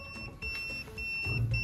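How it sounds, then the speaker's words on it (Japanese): A Kyoritsu KEW6041B insulation resistance tester sounds its buzzer while clipped to a live circuit at a distribution board, giving a steady high-pitched electronic tone that pulses in short bursts, fairly quiet against background hum. "この状態だとブザーが鳴って、あと電圧が表示されるんで回路が生きてるっていうのが"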